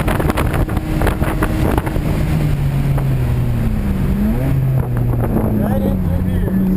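A BMW E30 on the VIR race track revs under throttle, its engine tone climbing and shifting through gears amid strong wind buffeting from inside the car, with people talking over it.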